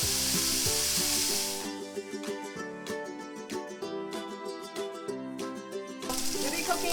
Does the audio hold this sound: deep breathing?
no